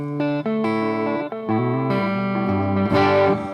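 Electric guitar notes and chords ring through the long vintage delay preset of an H9 pedal, each phrase trailing off in soft repeating echoes.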